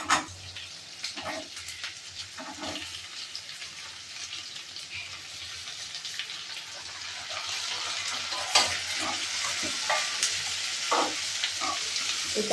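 Onion, tomato and chopped vegetables fry in a pan for vermicelli upma, giving a steady close sizzle with scattered scrapes and stirring taps that grow louder and denser toward the end.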